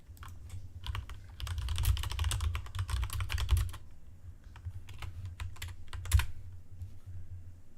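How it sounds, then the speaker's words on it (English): Computer keyboard typing, close and clear, with a dense flurry of keystrokes followed by sparser, scattered taps and a few louder key hits. "I love your typing on when I hear you on stream"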